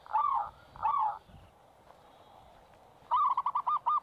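An Asian koel calls outdoors, two rising whistled notes early on, then a quick run of repeated notes near the end, loud and clear over a quiet background.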